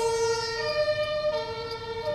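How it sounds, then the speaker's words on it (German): An ambulance siren wails close by in steady rising and falling tones, heard alone with no talking. "Und jetzt kommt ein Rettungswagen und keiner weiß, wohin muss."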